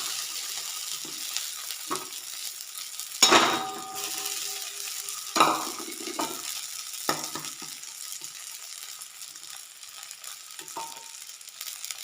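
Sabudana (sago) with cumin frying in a hot pan gives a steady close sizzle, broken by a few louder scraping and clattering stirs against the pan.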